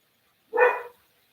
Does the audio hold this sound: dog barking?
yes